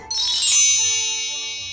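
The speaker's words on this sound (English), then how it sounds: "Says Peppa as she shakes the bell." A small hand bell jingles brightly with a quick shake, then its tinkling ring lingers and slowly fades.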